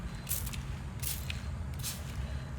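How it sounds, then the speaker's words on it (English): Three quick, soft hissing spritzes of water from a spray bottle land on potion bottles, evenly spaced about a second apart, close by and faint over a low background hum. "I'm going to spritz them with a water bottle"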